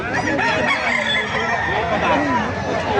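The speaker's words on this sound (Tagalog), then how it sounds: "Ganda ng mga manok, oh" A rooster crows loudly and close at a poultry market, its drawn-out call rising and falling over a busy background of clucking hens and other birds.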